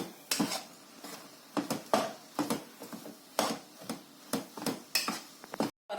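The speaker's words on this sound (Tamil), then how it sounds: "இந்த தேங்காய் பூவையும் மஞ்சள் தூளையும் போடுவோம். நல்லா கிளறி விடும்." A spoon scrapes and clinks against a pan while grated coconut and turmeric powder are stirred in. The strokes come as a dozen or so irregular, close knocks with quiet gaps between them.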